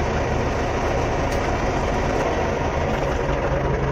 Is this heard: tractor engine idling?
yes